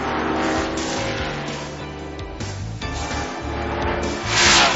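Several NASCAR Winston Cup race cars roar past on a road course, engines loud and steady with layered pitches shifting as they jockey through the S's, swelling louder near the end.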